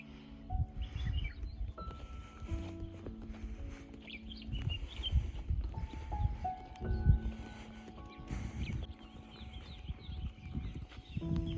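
Scattered bird chirps and calls in the Nilgiris hills near Ooty sound over a busy outdoor background with low rumbling and knocking noises, no talking.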